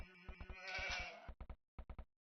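Sheep bleating in the Age of Empires video game, a wavering bleat followed by several short sharp clicks and taps, clear and close with no talk.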